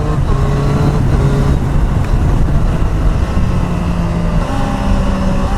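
A Triumph Street Triple R motorcycle with a slipper-assist clutch roars steadily under hard riding, its engine note stepping through an aggressive downshift, loud and close against heavy wind rush.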